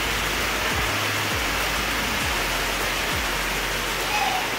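Rain falls steadily on a rainy night in Kodaikanal, an even, unbroken hiss that stays at the same level throughout, with faint low rumbles underneath.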